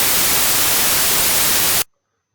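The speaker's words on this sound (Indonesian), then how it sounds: "Ini white noise." A white noise test signal for sound system acoustics plays as a bright, even, loud hiss with a sharp, airy character before stopping abruptly into silence.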